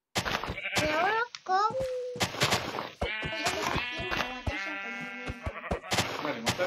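Minecraft sheep bleat several times in wavering cries, mixed with children's excited chatter and quick clicking game sounds.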